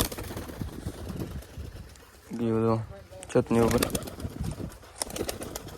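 Pigeons in a rooftop loft coo twice in short, throaty, rolling bursts close by, with someone talking before and after.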